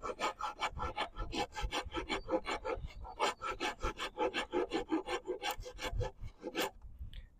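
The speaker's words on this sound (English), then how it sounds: "We're using a half round rasp now to make a transition." A half-round rasp shapes the handle of a hickory bow in steady back-and-forth strokes, about twenty rhythmic rasping passes close up, with a short pause near the end.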